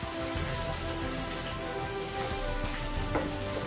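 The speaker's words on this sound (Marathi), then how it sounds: "याला मी छान मंद आचेवर लालसर होईपर्यंत भाजून घेते" Food roasting in a pan over a low flame gives a close, steady sizzle like light rain that holds even throughout, with no talking.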